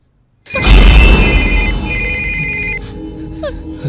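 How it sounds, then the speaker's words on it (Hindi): A telephone bell rings loudly in a Hindi-dubbed South Indian horror film, its steady ringing tone starting abruptly and sustaining under a boomy low rumble, with a brief pause before ringing again. "फोन है। जल्दी उठाओ।"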